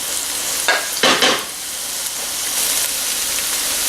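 Carrots, jalapenos and red onion sizzle steadily in an oiled pan with a constant hiss, broken by a few louder scraping stirs near the start.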